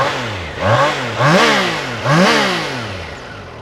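A Triumph Tiger Sport 660 three-cylinder motorcycle is revved up close, giving two strong, rising and falling blips of exhaust over a steady idle, with no talking.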